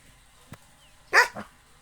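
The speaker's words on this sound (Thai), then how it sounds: "ด้วยโสตประสาทของน้องหมาเนาะ เนี่ยค่ะเขาก็จะเห่าเตือน" A farm dog barks a warning at passers-by near an organic grape plot, a short faint thump followed by one loud sharp bark and a quieter second bark.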